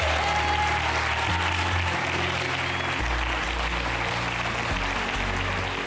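A crowd applauds loudly and steadily, a dense wash of clapping over a low sustained musical backing.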